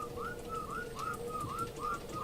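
Whistling inside the video game Ark: Survival Evolved, a steady series of short rising whistled notes repeating about every half second over a constant background hum, with no talking.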